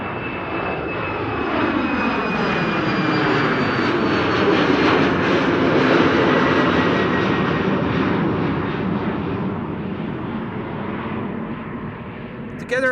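A KLM Embraer 190 jet takes off from Amsterdam Schiphol on a sunny morning. Its engine roar swells loud and near, with a rising whine, then slowly fades into the distance over about thirteen seconds.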